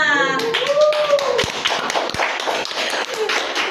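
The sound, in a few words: audience clapping hands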